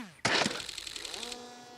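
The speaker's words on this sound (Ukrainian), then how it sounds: "Зафіксували постріл ворожої гармати." Enemy artillery gun firing near Pokrovsk: a single sharp, loud blast followed by a rumbling decay, with a rising whine tone trailing underneath.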